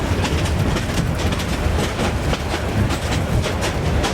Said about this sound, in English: This is actually on the train, and this is the experience. This is insanely bumpy.